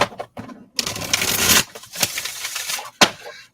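Oracle cards riffle and shuffle in a few quick bursts of crisp, papery flutter, close by, with short pauses between them.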